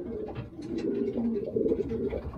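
Pigeon cooing close by, a soft continuous low warble that swells and pulses throughout, probably from a medium-sized barako pigeon being shown.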